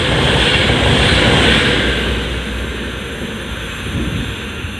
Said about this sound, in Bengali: এই যে ট্রেন, এই যে দেখেন কীভাবে যাচ্ছে,